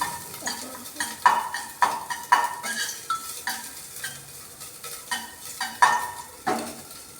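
Ginger and bay leaves fry in hot oil with a steady sizzle, punctuated by repeated sharp scrapes and clinks of a spatula stirring against the pan, close and fairly loud.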